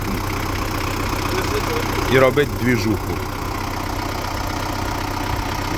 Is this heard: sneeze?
no